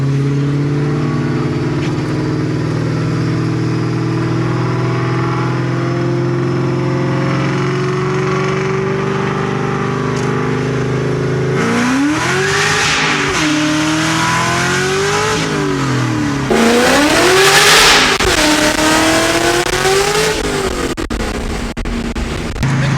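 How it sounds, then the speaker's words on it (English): A manual car engine pulled hard at wide-open throttle in second gear while merging, droning loudly and steadily before the pitch rises and falls in sweeping revs through shifts, with a brief blip near the end. "Gonna do a second gear pull here since, you know, we're merging right here."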